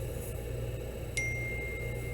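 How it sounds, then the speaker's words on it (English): A single short electronic ding from a phone notification rings out once midway, bright and clear over a steady low room hum, with no talking. "Sorry, my phone's going off."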